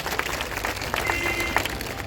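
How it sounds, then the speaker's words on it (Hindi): A crowd applauds at a political speech, giving steady, dense clapping with a few sharper individual claps standing out, at moderate distance and fairly even throughout. "आज ताली बजा रहे,"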